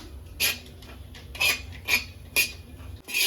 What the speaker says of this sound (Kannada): ಹಂಚೊಳಗಡೆ ನಾನು ಫಸ್ಟಿಗೆ ತುರಿದಿಟ್ಕೊಂಡಿರೋ ಕೊಬ್ಬರಿನ ಹಾಕ್ಕೊಂಡು ಫಸ್ಟ್ ಹುರ್ಕೊಳ್ತೀನಿ.